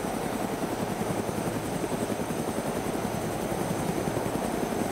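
A helicopter's rotor thumps in a steady, fast rhythm under a constant engine roar, loud and continuous throughout, in the video game DayZ.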